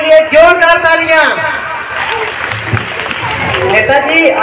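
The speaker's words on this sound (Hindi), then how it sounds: "नेताजी के इस नेक काम के लिए जोरदार तालियां।" Someone speaks in Hindi at a stage play about a politician's interview, then an audience breaks into loud, steady clapping that holds to the end.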